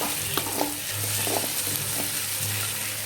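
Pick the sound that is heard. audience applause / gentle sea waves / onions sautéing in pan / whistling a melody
onions sautéing in pan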